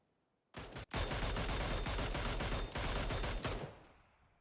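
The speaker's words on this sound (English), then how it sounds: "I should be listening to the gunfire here." Gunfire crackles through a PUBG esports match, a dense, loud burst of rapid shots starting suddenly, briefly pausing, then sustaining for about three seconds before dropping away to quiet.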